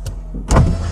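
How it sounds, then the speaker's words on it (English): An electric window motor runs in a 1992 Honda Beat, a faint whirring hum followed by a louder close thunk and buzz as the glass moves and stops. "It has electric windows"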